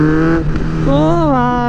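A Kawasaki Z900 superbike engine idles loudly up close with a smooth, steady drone, then revs once and its pitch rises and falls back.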